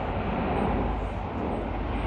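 A Red Arrows jet roars steadily overhead during a display at the Wales Air Show in Swansea, a loud continuous engine rush that fills the whole moment without a break.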